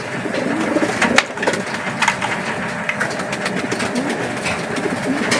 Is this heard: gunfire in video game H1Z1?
no